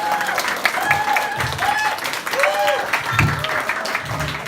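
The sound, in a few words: audience applause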